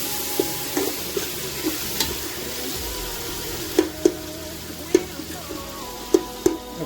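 A spoon stirs and mixes goat trotter masala with tomatoes in a pan, its sharp scrapes and clinks landing in an uneven rhythm over a soft, steady sizzle, close by with no talking.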